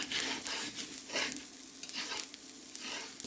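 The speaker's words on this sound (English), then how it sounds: "We're listening for lots of popping, and that's gonna increase more and more as this gets closer to being done" Quinoa frying in oil in a stainless pan, crackling and popping in irregular bursts under a soft continuous sizzle, with occasional scrapes of a metal tool close by.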